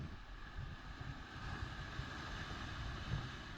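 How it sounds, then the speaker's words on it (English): A steady low roar of surf against rocks, continuous and rumbling, with gusty wind-like noise over it and no voices. "there's just something I love watching about waves crash up on rocks"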